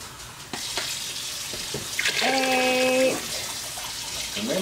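Water pours and splashes briefly into a pot of Irish beef stew amid kitchen clatter, with a short high squeak partway through.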